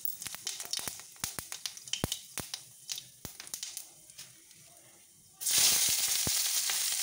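Cumin seeds dropped into hot oil, a sparse crackle of sharp pops and ticks at first, then a sudden loud, steady sizzle that fills the last seconds, close and without talk.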